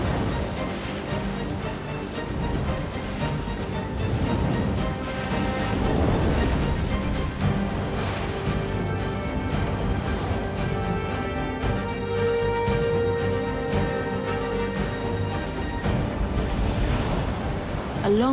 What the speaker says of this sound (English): A winter storm whips the sea into a frenzy.